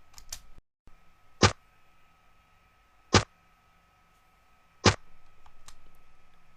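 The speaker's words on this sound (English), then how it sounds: "I used the boomerang catching sound." The Zelda video game boomerang-catching sound, used as a clap: three sharp, bright percussive hits spaced evenly about every second and a half, standing alone over a faint steady background.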